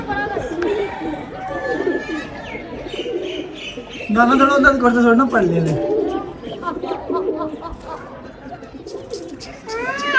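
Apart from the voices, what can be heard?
pigeon cooing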